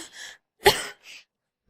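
A woman gives one short, sharp cough, close and brief, framed by faint breaths before and after.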